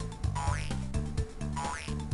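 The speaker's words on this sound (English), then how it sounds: "It's a random frog." A cartoonish frog croak from Crash Bandicoot repeats twice over bouncy game music, each croak a springy rising call about a second apart, loud and clear with no talking.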